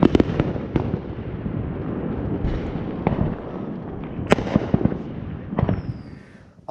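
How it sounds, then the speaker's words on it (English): Outdoor fireworks show with willow shells: continuous loud rumbling booms and crackling bursts, with several sharp reports standing out, under a steady roar. "Wow, that willow is so beautiful."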